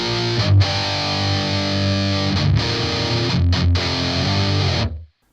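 Distorted electric guitar played through an MD421 microphone impulse response with reverb switched off, sustained heavy chords with a few brief breaks, cutting off cleanly at the end.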